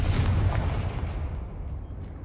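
Confringo fire spell explosions in the video game Hogwarts Legacy: a loud, deep blast with a rumbling low-end tail that slowly fades over about two seconds, with no talking.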